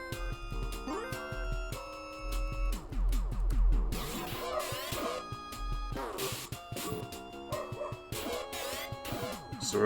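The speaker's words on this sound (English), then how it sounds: "Sorry guys, it's just my roomie's dogs." Dogs barking and yipping in short bursts in the background of a room, mixed under game music from Phantasy Star on the Master System, moderately loud and intermittent.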